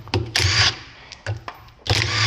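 A power screwdriver whirs in short bursts while removing screws from a drum washing machine being taken apart for cleaning, three or four close buzzing runs with brief pauses and small clicks between.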